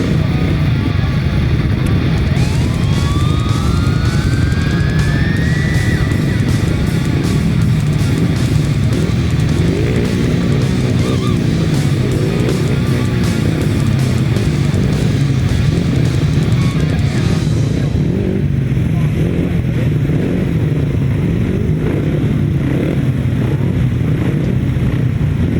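Grasstrack racing motorcycles released from the start at intervals by engine capacity, a dense continuous engine roar with rising whine lasting throughout, loud and close with wind buffeting, a faint voice mixed in.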